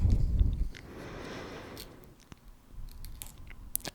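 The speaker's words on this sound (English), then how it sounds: "I just like chewing on gum" Soft, wet gum chewing and smacking close to the mic, irregular mouth clicks over quiet background, with a louder rustle at the start.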